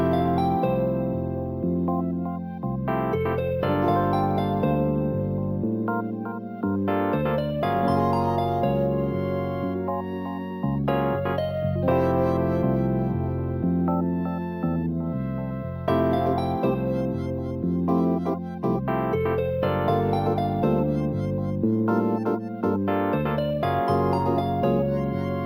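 A Nintendo-style chiptune melody plays alone, bright square-wave tones stepping through a repeating pattern of short notes over a steady bass line, continuous and fairly loud for the whole stretch.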